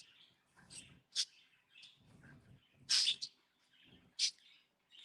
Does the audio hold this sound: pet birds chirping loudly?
yes